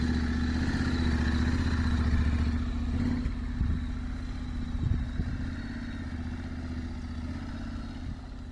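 A new Honda motorcycle idling close by, a steady loud engine rumble with a brief clattering rev around the middle, and no talking over it.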